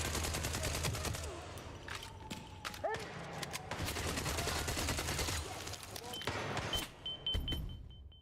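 Video game gunfire crackles in dense, rapid bursts, with sharp close shots layered over engine and vehicle noise. The clatter runs nearly nonstop and eases briefly toward the end.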